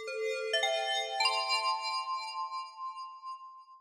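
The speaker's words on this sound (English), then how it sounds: "James is in his office when the phone rings" An office phone rings with a bright electronic ringtone, a series of stacked chiming tones that step up twice and then hold and fade out, clear and fairly close with no voices.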